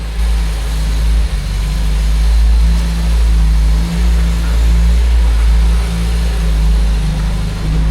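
A 1979 MGB GT Roadster fitted with a 1.8 Ford engine runs loud and close. It gives a steady, heavy low rumble with slight swells in revs throughout and no voices.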